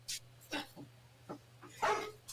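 A boxer mix mutt lets out a few short whimpers and yips followed by a louder bark-like cry, close by in a quiet room with a steady low hum underneath.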